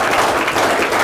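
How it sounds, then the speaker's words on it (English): A brief, loud burst of audience clapping for a speaker addressing business leaders, dense and close, lasting only about a second. "Round of applause, please"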